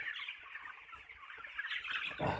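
A flock of broiler chickens clucks continuously nearby while feeding, with overlapping soft calls and a louder cluck near the end.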